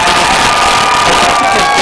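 An esports audience at a Halo Reach championship cheers for Fnatic Classic, a loud, dense roar of shouting and whooping voices that stays at full intensity through the whole short burst.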